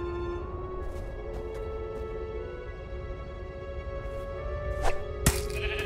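A sheep bleats in the Minecraft: Story Mode video game, a few short, faint bleats over a quiet musical game background with tonal hum.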